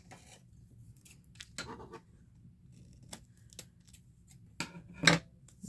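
Scissors trimming Christmas scrap paper, a few sharp, close snips spaced irregularly with quiet paper rustling between them, no talk.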